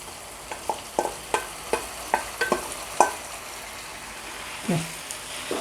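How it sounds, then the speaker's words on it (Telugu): Sorrel leaves being stirred into gongura chicken frying in a pan, a run of short spoon scrapes and clatters at an uneven pace over a soft sizzle, close and moderately loud, with no talking. "గోంగూరను యాడ్ చేసుకొని కలుపుకోవాలన్నమాట"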